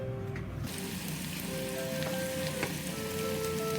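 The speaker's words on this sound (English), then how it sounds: "pouring the oil and heat the garlic intensively on the low heat to transfer the scent of garlic to the oil" Garlic sizzles in oil in a pan over low heat, a steady close crackle of frying with scattered small pops throughout.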